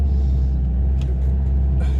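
Istanbul Metropolitan Municipality buses on the route from Üsküdar drive along a road near the village of Ağva, a steady low engine rumble close by with a faint hiss of passing traffic.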